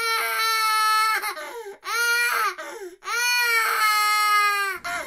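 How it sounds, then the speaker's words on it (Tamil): An infant cries loudly and close by inside a room, in long wailing bursts with short gasping breaths between them, continuous across the whole stretch. "இந்த ரூமுக்குள்ள இருந்தா பயங்கரமா குழந்தை அழுகிற சத்தம் கேக்குது"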